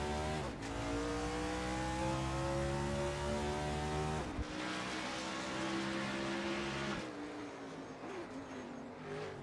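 Race cars in a racing video game roar off the green flag at Road America, several engines revving hard and shifting up through the gears in loud, overlapping climbs and drops.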